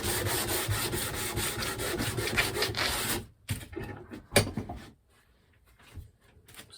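A wooden guitar body is sanded by hand with steady, close rasping strokes for about three seconds, then a few shorter scrubs separated by quiet pauses.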